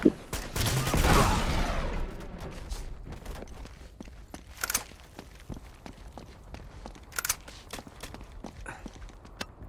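Grenade launcher fire in Uncharted 2: a loud burst opens the stretch, then a rapid run of sharp cracks and thuds continues through the rest.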